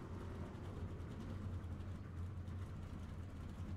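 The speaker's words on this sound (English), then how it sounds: "I can hear my truck just fine right now." Truck engine droning in a racing game at Daytona, a steady low rumble that stays constant and fairly faint, with no talk over it.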